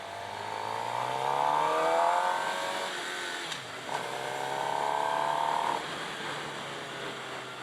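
A 2017 Suzuki GSX-R 750 sport motorcycle engine revs hard twice, pitch climbing high then dropping, loud and close with a brief pause between pulls.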